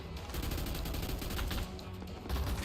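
An Uzi rattles off continuous rapid fire in a gun fight arena video game, a dense, close stream of sharp shots lasting the whole moment, with no talk over it.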